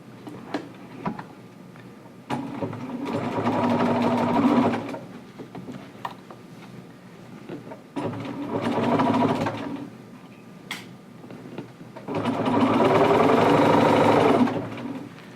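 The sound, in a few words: sewing machine stitching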